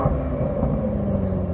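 BMW M5 engine, a steady low rumbling roar with a constant idle-like drone, heard alone without voices.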